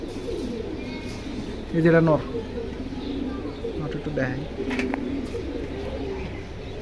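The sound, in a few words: pigeons cooing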